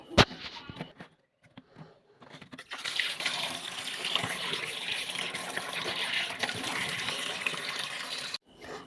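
Tap water runs steadily into a sink while freshly cut fish are washed clean, a continuous gushing splash with a few brief clatters just before it starts; no talking.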